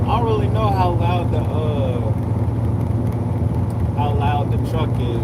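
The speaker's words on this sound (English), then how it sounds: "So y'all might hear nothing but engine right now." Big truck engine running steadily while driving, a loud continuous low drone heard up close from inside the cab, with a voice talking over it throughout.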